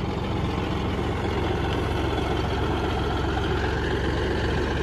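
A farm tractor engine idles steadily nearby, a continuous low rumbling chug with an even throb that stays loud and unchanging throughout, with no voices.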